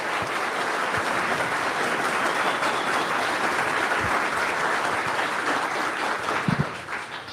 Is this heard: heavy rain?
no